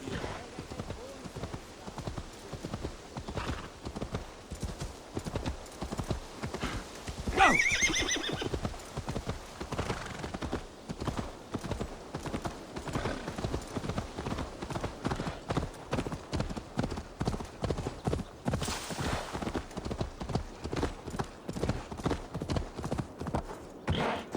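A horse in the video game Assassin's Creed Valhalla trots with a steady, rapid clip-clop of hooves. The hoofbeats stay close and continuous, and a loud whinny breaks through near the middle and another comes later.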